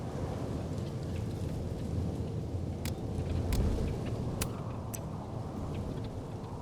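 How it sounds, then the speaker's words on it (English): Rumbling thunder of a psychic storm in the video game Life is Strange: Double Exposure, a steady low roar with rain-like hiss and a few sharp crackling strikes, swelling slightly midway, with no one talking. "Psychic storm."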